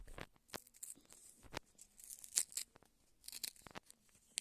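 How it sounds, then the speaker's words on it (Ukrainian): A small plastic packet is torn open in short bursts of ripping and crinkling, close up and fairly quiet, with brief pauses between pulls. "Виходить, що порвався пакетик."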